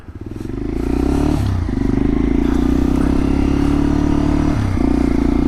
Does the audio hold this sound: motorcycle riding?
yes